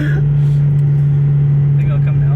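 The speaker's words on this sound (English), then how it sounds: "Throttle's hanging a little bit." A Ford SVT Focus engine with a hung throttle holds a steady, loud, elevated droning hum that does not drop back to idle. Faint voices briefly come in near the end.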